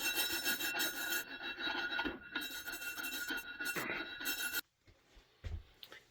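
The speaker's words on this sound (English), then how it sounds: "cleaned up all the rust with the wire brush" Wire brush scrubbing rust off the rim of a leaking snowblower tire, a steady, close, raspy scraping that runs for several seconds, then stops abruptly and leaves quiet with a few faint knocks.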